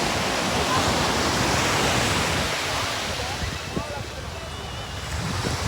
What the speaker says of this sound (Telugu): బ్యాక్ సైడ్ వేవ్స్ చూడండి ఎంత బాగా వస్తున్నాయో.